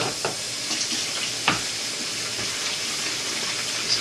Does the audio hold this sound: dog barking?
no